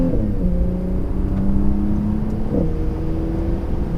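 2018 Porsche Panamera 4 accelerating in sport mode, a loud, close engine drone rising in pitch through the rev range with a gear change partway, over heavy road and wind rumble.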